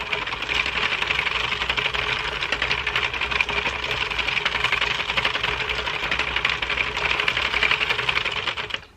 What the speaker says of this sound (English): I'm gonna crank a little bit faster